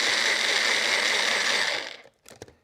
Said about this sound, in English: I'm going to put it in the blender here, give it a quick little zip.